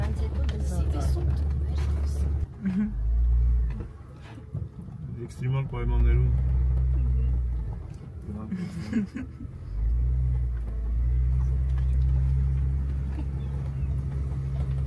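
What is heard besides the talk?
car driving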